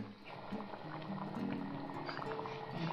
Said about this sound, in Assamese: এয়া উতলি আছে চব